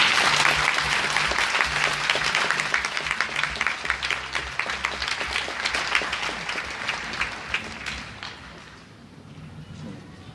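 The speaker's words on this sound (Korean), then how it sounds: "우리 모두 힘찬 박수로 이 두 분을 초대하겠습니다" Crowd clapping at a welfare rally in Busan, a strong sustained burst that gradually thins toward the end, leaving only scattered claps.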